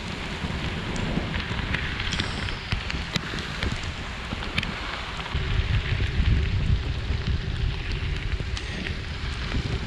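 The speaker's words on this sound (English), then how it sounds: "it's raining even more now" Heavy rain falls steadily in a dense, continuous hiss with scattered sharper drops, swelling slightly heavier partway through, during a stormy gravel ride near Mayville, Wisconsin.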